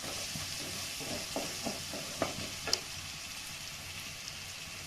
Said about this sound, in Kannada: ಶುಂಠಿ ಬೆಳ್ಳುಳ್ಳಿ ಪೇಸ್ಟ್ ವಾಸನೆ ಹೋಗೋವರೆಗೂ ಸ್ವಲ್ಪ ಹುರಿಬೇಕು.